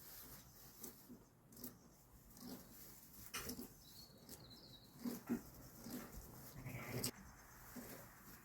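Sheep bleat in a lambing shed, several faint overlapping calls scattered among soft rustling and shuffling, heard at a distance in a quiet barn.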